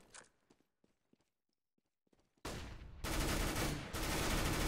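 Several sharp, loud shots ring out from an AWP sniper rifle in a competitive first-person shooter match, following quiet footsteps and small clicks, with the blasts and their echoing tails filling the second half.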